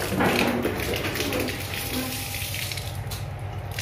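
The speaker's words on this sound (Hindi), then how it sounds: "ये हमारी फ्रेश पानी की टूटी है।" A tap runs steadily, water gushing and splashing into a basin nearby with a constant broadband rush.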